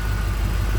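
A 1990 Chevrolet Camaro IROC-Z convertible's 5.0 liter tuned port injection V8 idles in a short, steady, close low rumble with no voices.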